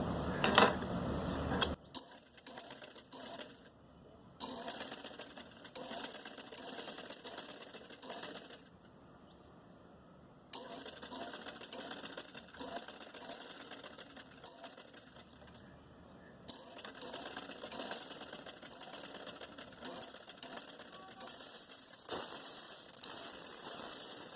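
A sewing machine stitches trouser fabric in bursts of rapid clattering, separated by brief pauses, close and fairly loud throughout.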